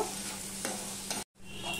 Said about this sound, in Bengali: দেখো, আলু পেঁয়াজটা ভাজা হয়ে গেছে